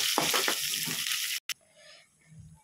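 Two washed bay leaves drop into hot oil for palak paneer, giving a close, bright sizzle with stirring scrapes. The sizzle cuts off abruptly, then a quieter faint crackle follows.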